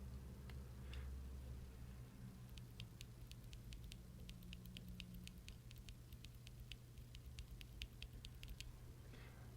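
A run of mechanical keyboard switches, unlubed and without upstroke dampening, pressed and flicked in a steady train of sharp, fairly quiet clicks with a slight ping over a low background hum.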